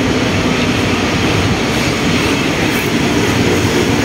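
A train rumbles steadily along the tracks, with a continuous loud roar and faint rattling of cars, no voices present.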